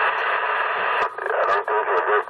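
Voice audio received over a Uniden HR-2510 ten-meter radio: band-limited, steady transmitted sound filling the clip, with brief dropouts between bursts, close and fairly loud.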